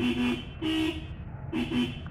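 A car horn honks three times in short bursts, loud and close, with brief pauses between each toot.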